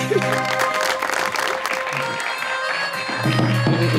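A TV talk-show studio audience applauds a guest's introduction, with dense clapping and light crowd noise under steady music tones that swell again near the end.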